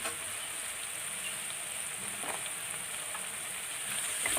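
Curry leaves and garlic cloves frying in oil for brinjal kara kuzhambu, a steady close hiss of sizzling oil throughout, with no speech.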